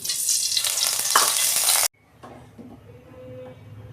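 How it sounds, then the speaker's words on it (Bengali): Oil sizzles loudly in a wok on a gas stove, a bright, hissing frying sound close by for about two seconds. It cuts off abruptly and is followed by faint clinks of cookware. "কড়া বসে দিয়েছি আমি গ্যাসে কড়ায় আমি তেল দিচ্ছি"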